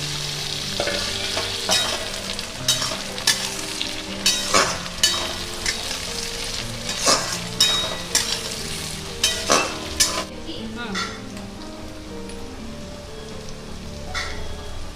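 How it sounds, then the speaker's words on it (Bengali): Onion and tomato frying in a pan for a chicken dish, a steady close sizzle broken by sharp scraping stirs every second or so, the stirring easing off toward the end. "পেঁয়াজটা অর্ধেক ভাজা ভাজা হয়েছে, এবার টমেটোটা দিয়ে ভাজা ভাজা করবো।"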